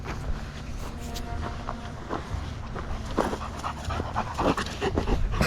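A German Shepherd pants close by on a forest hike, with quick rhythmic breaths, a few soft whimpers and rustling steps getting louder toward the end.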